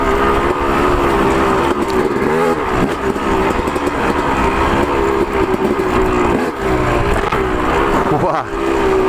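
A dirt bike ridden along a trail, its engine droning loud and steady throughout with small shifts in pitch, close up and drowning out most other sound.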